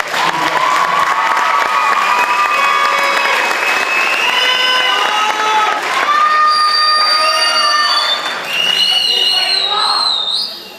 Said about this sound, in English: Round of applause for head boy, head girl.